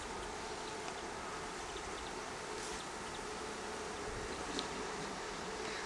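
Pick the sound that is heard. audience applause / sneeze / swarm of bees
swarm of bees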